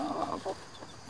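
Local village chickens cluck in short, close bursts, a few quick clucks in a row with brief gaps and no talking over them.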